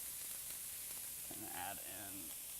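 Onions softening in a pan give off a steady, faint sizzling hiss, with a brief voice-like murmur rising partway through.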